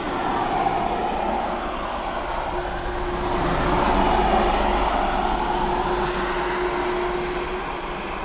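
Cargo aircraft taxiing at East Midlands Airport, a steady broad engine rumble with a sustained hum that swells slightly midway, heard from a distance with no voices.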